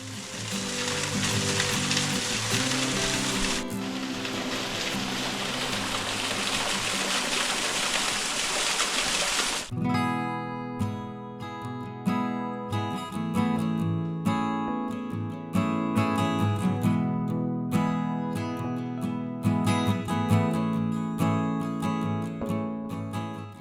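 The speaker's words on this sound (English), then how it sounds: "waterfall trickles down into a pool below and is surrounded by lush greenery" A waterfall in lush greenery in Great Otway National Park trickles into a pool below, a steady broad rushing hiss for about ten seconds before music takes over.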